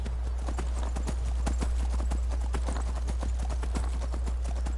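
Rapid, steady clip-clop of a Daedric horse's hooves in Skyrim, trotting close over a constant low hum.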